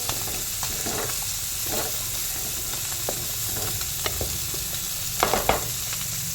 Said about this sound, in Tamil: மீன் பொரிஞ்சிருச்சு